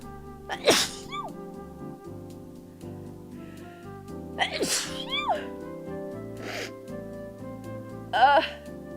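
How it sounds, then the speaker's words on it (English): Three sharp sneezes burst out over soft background music, each a loud sudden blast with a trailing breathy whine, spaced a few seconds apart. "I sneezed."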